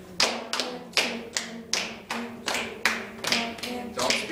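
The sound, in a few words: group clapping a rhythm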